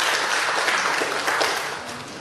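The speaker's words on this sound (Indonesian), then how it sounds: "Tepuk tangan buat Bapak Oksya." An audience at a public speaking training event claps for Bapak Oksya, a steady broadband wash of hands from a large crowd that softens slightly toward the end.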